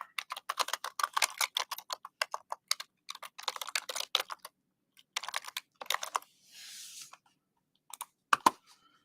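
Bursts of fast clicking keystrokes on a computer keyboard, close and crisp, coming in clusters separated by short pauses, with a few isolated taps near the end.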